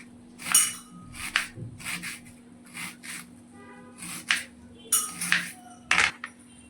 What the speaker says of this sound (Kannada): ನಾನು ಉದ್ದಕ್ಕೆ ಕಟ್ ಮಾಡ್ಕೊಳ್ತಿದ್ದೇನೆ